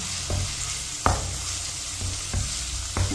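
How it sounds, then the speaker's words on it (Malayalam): Ginger garlic paste frying and being stirred in a hot pan, with a continuous close sizzle broken by several sharp scraping strokes of a spoon against the pan, no voices. "ഇഞ്ചിയും വെളുത്തുള്ളിയും പേസ്റ്റ് ഇടാം നല്ലപോലെ മിക്സ് ആകണം"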